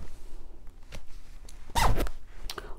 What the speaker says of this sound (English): so you could either zip it up from the bottom